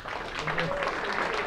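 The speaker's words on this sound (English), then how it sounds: "Another round of applause for JD." Brief applause from a meetup audience at a tech talk, a short burst of clapping mixed with a voice speaking over it.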